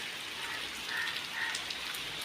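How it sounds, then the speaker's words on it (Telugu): Heavy village rain falling steadily, a dense, even hiss of drops close by with a couple of faint chirps riding on top and no voices. "ఈ రోజైతే మా ఊర్లో ఫుల్గా వర్షం."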